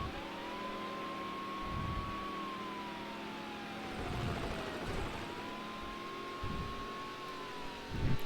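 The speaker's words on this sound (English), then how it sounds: "Car sounds are solid considering the age of the game." A car engine in an older video game, played on the Dolphin emulator, revs and shifts pitch with a steady drone, rising and falling over several seconds, with thuds and background game sounds underneath.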